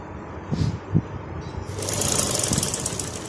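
A sewing machine stitching fabric gives a couple of soft knocks first, then starts a steady, fast mechanical whir that runs continuously to the end, close and moderately loud.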